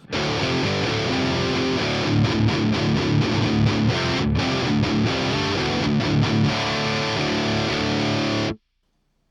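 A distorted electric guitar chugs through a dark, gritty ToneX amp model, playing steadily for several seconds before cutting off abruptly.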